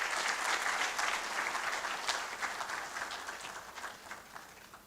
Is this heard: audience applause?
yes